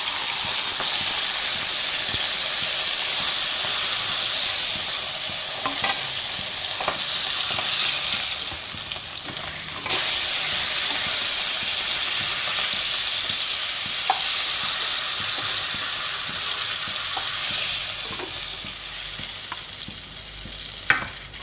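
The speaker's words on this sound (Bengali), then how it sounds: "এর মধ্যে তেজপাতা লঙ্কা রসুন এসবগুলো দিয়ে দিলাম," Bay leaves, green chillies and garlic hit hot oil in a pan for a Bengali fish dish, producing a loud, steady hissing sizzle that holds for about twenty seconds with occasional light stirring clinks.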